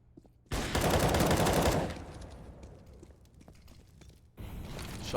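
Rapid automatic gunfire in a competitive shooter match, a loud sustained burst of shots followed by quieter scattered clatter and then another close burst.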